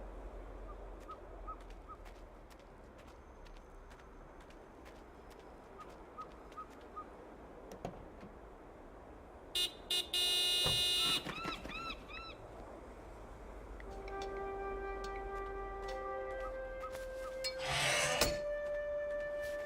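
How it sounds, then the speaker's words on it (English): A car horn honks in the adventure game Broken Sword 5: The Serpent's Curse, with a couple of short blasts rising out of a quiet, still ambience. "Nico, could you honk the horn again?"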